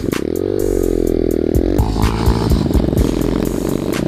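An SSR 125 pit bike engine revving up close, a loud buzzy rasp that climbs, drops sharply and then sputters with rapid popping bursts.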